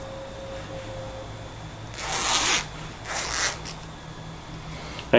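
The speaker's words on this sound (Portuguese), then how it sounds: "É sempre importante passar o zíper para lá, para que o saco não abra durante a lavagem" A zipper is pulled shut on a small mesh laundry bag before delicate washing in an Electrolux Direct Drive Premium 16 kg washer, two short raspy zips close up, the first longer than the second, followed by a brief knock.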